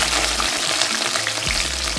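Onion frying in oil in a kadai for an Andhra-style fish curry, a loud, dense sizzle that runs steadily throughout, with a couple of faint stirring scrapes and no talking.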